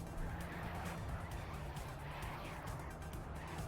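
A race car in an endurance race sweeps past, its engine note rising and falling as it goes by, a continuous mid-level roar that neither starts nor stops within the clip.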